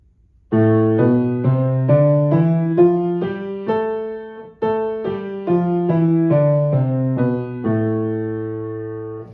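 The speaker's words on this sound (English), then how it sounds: "here is the A natural minor scale." Piano plays the A natural minor scale in single notes, rising steadily then descending, ending on a held low note; clear and close with no talking.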